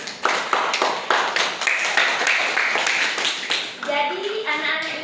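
Pupils in a classroom break into rhythmic group clapping, a quick run of sharp, evenly spaced claps close by, with children's voices rising over the last second or so.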